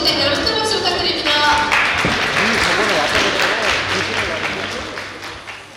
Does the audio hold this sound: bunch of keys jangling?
no